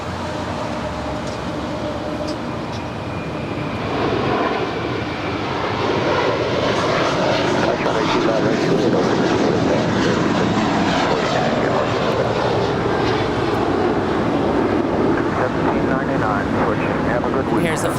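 American Airlines flight 1799, an Airbus A321 jet bound for Philadelphia, departing LAX: a powerful engine roar that swells after a few seconds and then holds loud and steady for the rest of the stretch.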